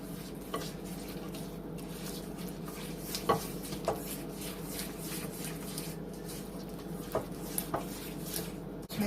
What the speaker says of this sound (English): So you're gonna mix that until it's blended together.